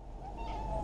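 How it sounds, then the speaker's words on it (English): A cat gives a single drawn-out meow, close and fairly quiet, over steady low background hum. "This is my cat, Dave."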